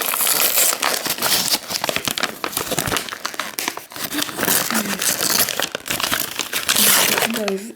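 Toy packaging wrapped tightly like a gift being opened: dense, continuous crinkling and crumpling of paper and plastic with sharp tearing bursts, close and loud, while a person talks over it.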